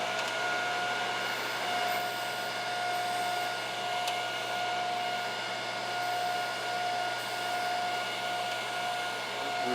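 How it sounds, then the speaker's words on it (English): A grinding wheel deburring a metal edge, heard as a steady, fairly loud machine whine with a sustained tonal hum and no pauses throughout. "All we're doing is we're just bumping the edge of the metal up against the grinding wheel"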